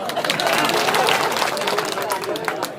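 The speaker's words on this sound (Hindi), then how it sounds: "ताली बजा दो एक बार" A mushaira audience claps in a loud, dense burst of applause mixed with crowd murmur, steady throughout and tapering slightly toward the end.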